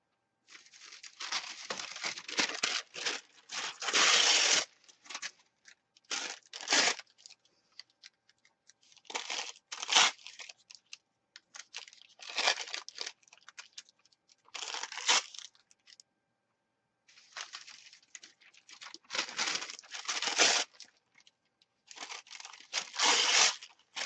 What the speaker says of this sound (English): And we are going to put down some more paper.